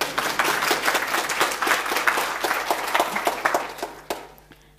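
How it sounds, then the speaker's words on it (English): A lecture audience applauds for several seconds, dense overlapping claps that hold steady then thin out and fade near the end, with no talking over them. "Please give him a hand of applause on my behalf."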